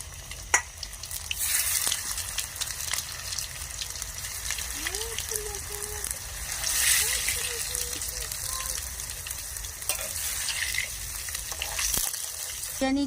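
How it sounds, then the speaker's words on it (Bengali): Potatoes for chicken biryani fry in oil with a continuous close sizzle and bubbling, broken by a few utensil knocks, while a brief murmured voice passes faintly underneath. "রেখেছিলাম সেই আলুটা আমি একটু ভেজে নেবো লাল লাল করে।"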